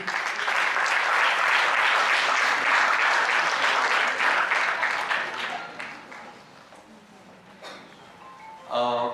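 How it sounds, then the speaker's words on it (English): A large crowd applauds loudly and steadily for several seconds at a panel discussion, then the clapping thins out and fades, with a brief burst of sound at the end. "A big round of applause for Krishna Rajan"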